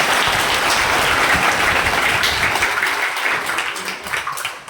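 A crowd at a Christian retreat gathering claps loudly and continuously, a thick, even roar of many hands that eases slightly in the final seconds.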